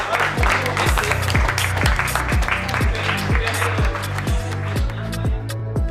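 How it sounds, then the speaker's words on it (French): An audience claps for a study team at a public presentation in Greater Paris, a dense wash of applause over a steady rhythmic thumping pulse, with a few voices mixed in. "je voudrais qu'on les applaudisse très très fort"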